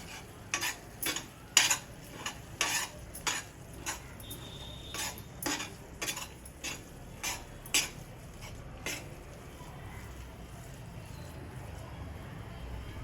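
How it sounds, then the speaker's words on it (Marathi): Jaggery and coconut stirred and sautéed in a pan for healthy laddoos, a regular series of close, sharp spoon-on-pan scrapes and clicks over a soft sizzle, with no talking. "आता गूळ आणि खोबरं एकजीव होईपर्यंत आपण परतून घेऊया."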